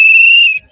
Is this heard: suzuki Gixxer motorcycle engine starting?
no